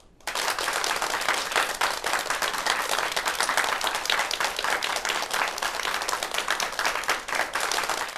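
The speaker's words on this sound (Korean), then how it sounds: "최재붕 성균관대 교수를 여러분 박수로 맞아주시기 바랍니다." An audience at the 2020 JDC AI×Global Academy lecture breaks into applause to welcome a professor to the stage, a full, even clapping that holds steady from start to finish.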